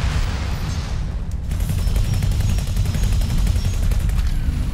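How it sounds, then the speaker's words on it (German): Rapid gunfire from ships in the space game X4: Foundations, a dense rattling burst of repeated shots over a heavy low rumble of battle noise, steady and loud throughout with no voices. "Drei Schüsse."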